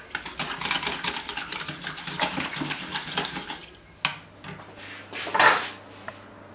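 Crepe batter being mixed with melted butter and olive oil: rapid clinking and scraping of a utensil against a bowl, with a few sharper knocks near the end, close and fairly loud.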